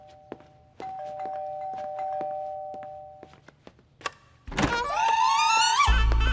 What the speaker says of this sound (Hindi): तेरा बाप बाहर खड़ा रह के घंटी पे घंटी बजाते जा रहा है